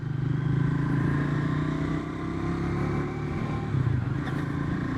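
Triumph Scrambler 400 XC, a 400cc motorcycle, being ridden with its engine running steady and loud throughout, a continuous mid-pitched drone with slight swells in power and no talking.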